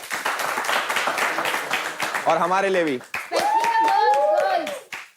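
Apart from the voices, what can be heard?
audience clapping for themselves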